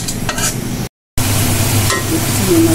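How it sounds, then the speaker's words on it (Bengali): Jute leaves cooking in a pan with shrimp, a steady close sizzle with bursts of stirring, broken briefly by a gap of silence. "এখন পুপু পাটের শাক রান্না করতেছে"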